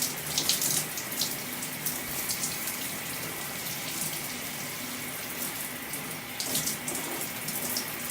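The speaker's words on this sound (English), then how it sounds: "So I'm still rinsing off the shampoo." Water pours steadily from a tap while shampoo is rinsed out of natural curly hair, a continuous close splashing rush with uneven spatters.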